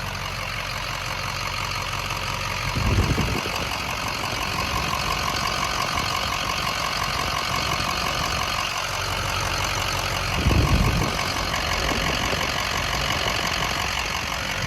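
A Ford 6.0 Powerstroke diesel truck engine idles close by with a loud, steady rumble and rattle for the whole stretch, with two brief bumps in the sound.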